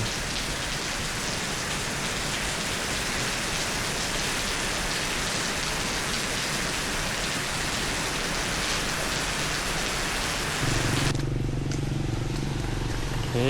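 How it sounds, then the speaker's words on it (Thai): Steady light rain falls in a residential street in Vientiane, Laos, a continuous soft hiss of drops pattering on surfaces that runs unbroken for the whole stretch, with a low rumble joining near the end. "แบบนี้ฝนยังตกค่อยๆ"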